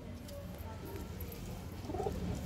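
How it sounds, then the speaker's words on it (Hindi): Pigeons coo softly from a perch overhead, a low, steady murmur of calls running through the whole stretch, fairly faint against background noise. "ये आप देखिए कबूतर ऊपर बैठे हुए हैं"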